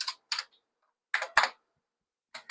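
Keys clack on an IBM 5150 PC keyboard in short, separate bursts, two quick strokes, then a pair of louder ones, then two more, with silent gaps between them, crisp and close.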